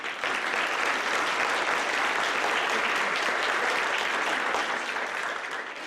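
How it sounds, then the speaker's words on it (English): Attendees at a scholarship and awards program applaud the scholarship recipients, a full, steady stretch of crowd clapping at even strength that tapers off slightly at the end. "round of applause, please"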